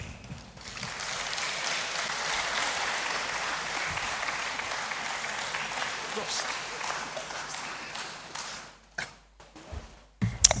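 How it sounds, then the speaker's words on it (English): Lecture-hall applause for a guest speaker, a sustained round of many hands clapping that fades out near the end, followed by brief rustling and a voice starting to speak. "Another round of applause for our guest speaker"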